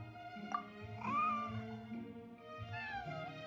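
A white, fluffy cat in the Genshin Impact video game meows a few times, with rising and falling cries over a soft game background and no talking.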